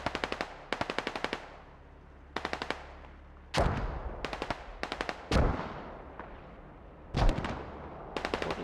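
Rapid bursts of automatic gunfire crackle in quick rattling volleys, punctuated by three heavy booming explosions from rockets in a multiplayer shooter match, loud and close with no talk.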